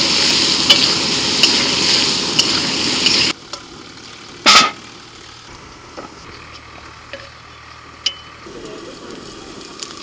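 Onion hits oil with whole cumin seeds and bay leaf: a loud, dense sizzle that cuts off abruptly partway through, leaving a quiet background with a few sharp clinks and one brief bright clatter.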